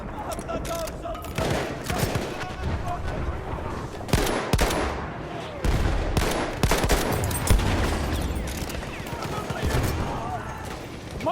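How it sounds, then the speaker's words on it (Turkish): Machine guns and rifles fire in repeated bursts during a Battlefield 1 operations battle at the Suez Canal. The shots crack loud and near with short gaps, under ongoing battle noise and occasional game voice callouts. "Makinalı tüfek."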